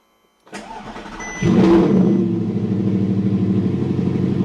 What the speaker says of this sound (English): you are going to hear this start up